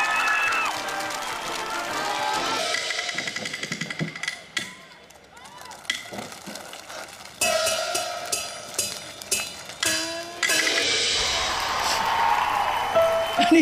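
Studio audience clapping and cheering for a contestant named to the final four of a Taiwanese opera talent competition, a loud sustained roar with bright music and bursts of crowd noise throughout.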